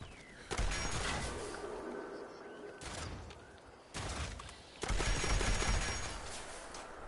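Rifle gunfire from the Fallout 76 Treasure Hunters event, mole miner hotspot, arriving as a few loud bursts of shots separated by short gaps, with no talk over it.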